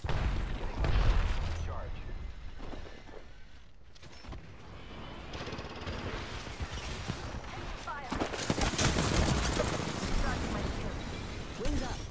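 Gunfire and grenade blasts from the Apex Legends video game come in dense, crackling bursts with heavy booms around the middle and later on, with voices talking over the noisy battle.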